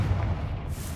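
A deep, rumbling blast from the Confringo fire spell in Hogwarts Legacy, a low booming roar that fills the whole short moment at steady loudness.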